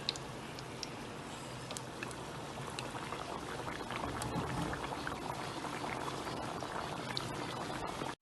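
Mathri dough pieces deep-frying together in hot oil over medium heat, a steady dense bubbling sizzle that holds level throughout, close and fairly loud with no talk.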